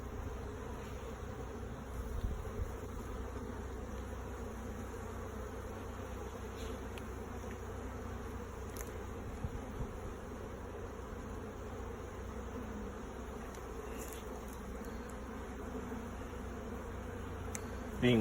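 Honeybees buzz steadily at an open hive during a cool January inspection, a dense, continuous close-up hum that holds at an even level throughout with only small swells.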